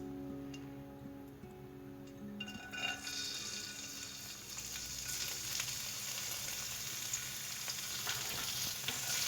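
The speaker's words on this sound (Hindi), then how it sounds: "फिर इसमें सारे मेवे डाल के इनको फ्राई करना है हल्का हल्का सा।" Dry fruits (almonds, dried dates, pistachios and raisins) fry gently in melted ghee over a low flame, giving a soft, steady sizzle that swells slightly partway through, with no talk.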